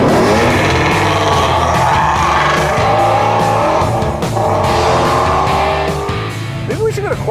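Shelby sports car roars past at speed, a loud, dense engine blare with tire squeal and shifting pitch that eases slightly toward the end.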